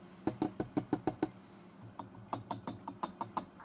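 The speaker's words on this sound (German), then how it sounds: "einmal auf das Stativ klopfen." Knuckles rapping on a camera tripod, two bursts of quick sharp knocks, about seven in the first and ten more spread through the second, close and distinct, with no talking.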